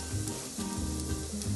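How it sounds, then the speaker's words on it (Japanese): Steady, close sizzling of leeks frying in olive oil in a pot, with soft stirring scrapes mixed in. "ちょっとオリーブオイルで炒めていきますね。"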